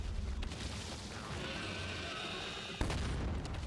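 Rapid gunfire rattles continuously as cover fire, dense and steady, with a sharp loud burst near the end.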